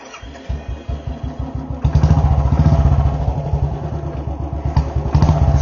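A 2008 Royal Enfield Bullet Standard 350 with a modified silencer thumps along close by, its single-cylinder beat loping unevenly before settling into a rapid, loud, steady pulse.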